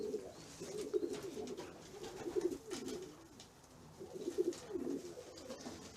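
Racing pigeons coo softly in a spacious young-bird loft, repeated low throaty phrases in uneven bursts, fairly faint and distant over a steady background hiss.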